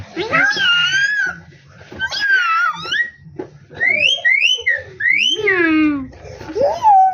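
A child imitates a cat's meow with rising and falling vocal glides, repeated several times across the clip, close and fairly loud, with adult speech around it.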